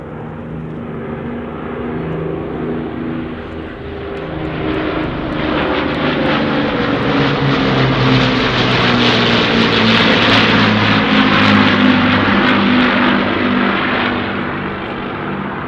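An Avro Lancaster B1, PA474, a four-engined propeller bomber, flies over at the Dunsfold Wings and Wheels 2018 airshow, its deep, steady engine drone swelling as it nears and staying loud and continuous throughout.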